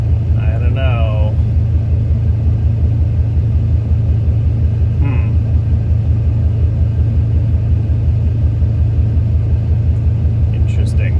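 A parked older car's engine idles with a loud, steady low rumble and a regular pulsing throb throughout, up close, while a person speaks briefly over it near the start.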